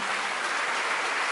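An audience claps at a talk about an ashram, a dense, steady burst of applause from many hands lasting about a second, with no talk over it.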